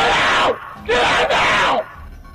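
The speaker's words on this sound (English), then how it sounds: "This intruder was screaming at the top of his lungs." A male intruder screams at the top of his lungs in a home at 4 a.m., two loud, raw bursts, the second longer with a brief catch, close and harsh before fading to quiet.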